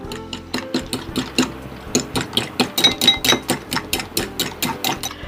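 Chicken eggs whisked until frothy in a bowl make a quick, steady rhythm of sharp tapping clicks, heard close and loud with no talking.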